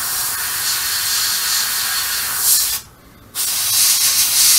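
An airbrush sprays camouflage paint onto a scale model of a German WW2 Sd.Kfz.251 halftrack. It gives a close, loud, continuous hiss that cuts out for about half a second and then resumes.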